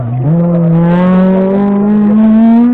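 A Peugeot 205 race car at a slalom event at Chamblon roars close and loud, its engine note shifting up briefly and then climbing steadily as it accelerates away in one continuous pull.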